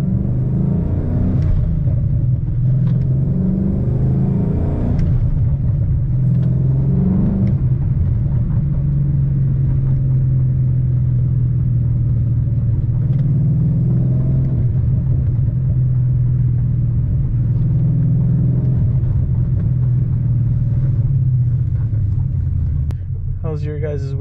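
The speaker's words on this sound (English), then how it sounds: "I like going here to just hear the exhaust." A 2011 Ford Mustang GT, with a new transmission, rumbles along on the road, its V8 exhaust droning low and steady with occasional swells as it accelerates, heard from inside the car for over twenty seconds.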